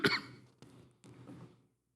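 A single sharp cough bursts out loud and close, followed by two softer breathy throat sounds in a quiet room.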